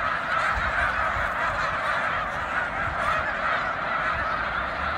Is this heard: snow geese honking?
yes